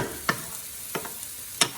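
Onions frying in a pan while being stirred, with three distinct scraping stirs spaced over a low, steady sizzle.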